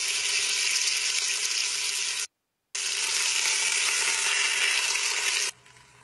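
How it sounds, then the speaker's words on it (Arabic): Meat slices fry in hot oil inside a pressure cooker, a loud, steady broadband sizzle that cuts out briefly near the middle, resumes, then drops to a quieter hiss at the end. No voices. "في القدر الكاتم بنحط شوي زيت ونخليه يسخن، وبعدين نحمر شرائح اللحم."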